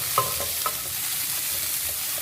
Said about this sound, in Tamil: நான் கடாயில் கொஞ்சமாக எண்ணெய் எடுத்திருக்கேன். இதில் இந்த வெண்டைக்காயை போட்டுக்கலாம்.